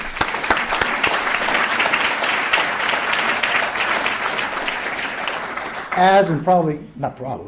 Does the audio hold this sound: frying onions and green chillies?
no